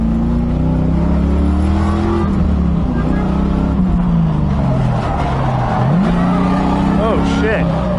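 A drift car with an electric steering column makes a test pass at a drift event, its engine droning and revving with shifting pitch, close and loud, with people talking over it throughout.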